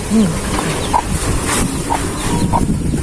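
Chickens clucking softly in short, scattered calls over a busy, noisy background.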